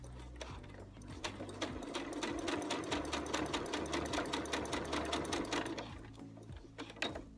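Sewing machine stitching a legging hem, a fast steady mechanical whirr of rapid needle strokes that starts, runs continuously for several seconds and stops, close and clear with no talking.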